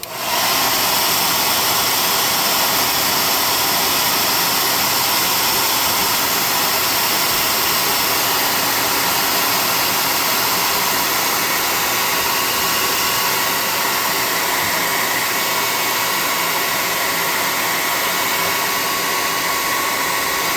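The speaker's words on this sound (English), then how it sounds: "Let's bring the camera up and hit him with the hot air gun." A hot air gun blasts continuously onto a freshly painted tabletop miniature, a loud, steady, close roaring whoosh that holds unchanged for about twenty seconds with no pauses.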